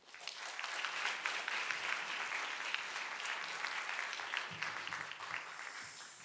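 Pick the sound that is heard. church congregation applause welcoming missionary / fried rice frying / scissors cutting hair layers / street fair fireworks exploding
church congregation applause welcoming missionary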